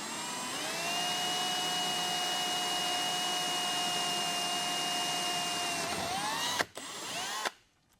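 A vacuum cleaner's loud motor whines up and runs at a steady high pitch during boat fiberglass work, then cuts out abruptly near the end.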